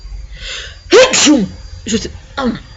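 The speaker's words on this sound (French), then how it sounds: "j'ai une grosse envie d'éternuer" A sharp, loud sneeze bursts out after a quiet stretch outdoors at a climate march, followed by a couple of softer sniffs or short breaths.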